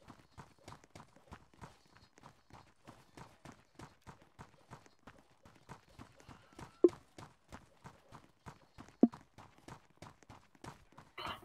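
Steady, evenly paced clip-clop of hooves in a video game, several horses trotting together, with a couple of sharper knocks partway through.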